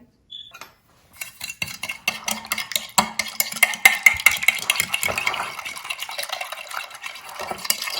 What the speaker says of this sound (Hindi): इसको अच्छी तरह आप मिक्स कर लें, बीट कर लें